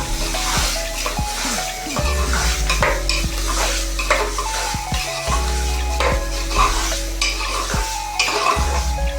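Tomatoes and coriander are stirred into a bubbling vegetable curry of valor bean seeds. A spoon scrapes and knocks repeatedly against the pot over a constant sizzle, close and loud, with no talking.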